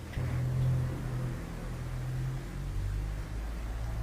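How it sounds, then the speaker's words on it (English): Cars passing outside a building, heard from indoors as a faint, steady low rumble and hum that holds for several seconds with little change. "There's cars going by outside."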